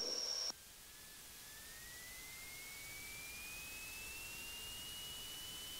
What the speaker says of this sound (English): departure of 2006 Piper Archer 4262, full power